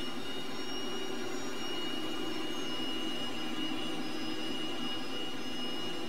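A T-37 jet trainer's engines roar in a continuous, loud whine with a steady high-pitched tone over broadband rush, heard from inside the aircraft.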